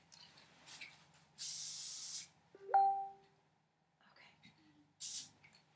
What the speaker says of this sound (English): this spray is amazing